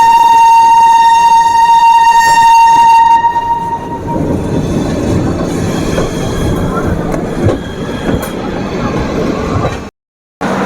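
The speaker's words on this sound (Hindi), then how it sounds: "ये train maximum 144 kilometre per hour तक स्पीड पकड़ी है" Howrah Bikaner superfast express train running at high speed: a loud steady rumble and rail roar with a long sustained horn blast early on, then rushing wheel noise before a brief dropout near the end.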